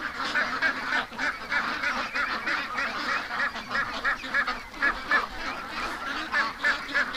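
A flock of ducks honking and quacking continuously nearby, overlapping calls rising and falling in a noisy, busy chorus.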